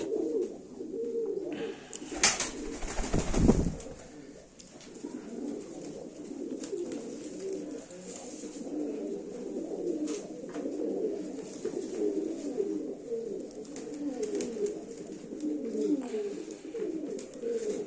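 American Fantail pigeons coo in soft, repeated rolling phrases close by, with a brief loud handling clatter near the start.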